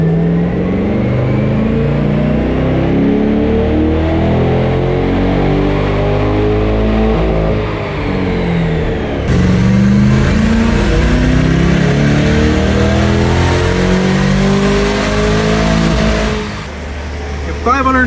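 Chevrolet Corvette E-Ray hybrid engine revving hard in third gear on a dyno at full charge, a loud sustained climbing drone with rising harmonics, a brief dip near the middle before pulling again and cutting off near the end.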